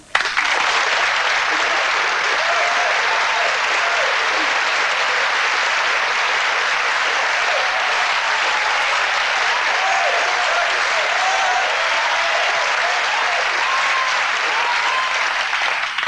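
Studio audience applause on a 1984 television chat show, dense steady clapping that starts abruptly and carries on at full strength for about sixteen seconds.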